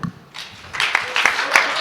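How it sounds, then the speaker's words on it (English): Audience applause at a SXSW EDU 2024 education panel swells after a quiet start, building into uneven clapping with a few sharp, prominent claps standing out. "Clap it up for Dr. Gerald."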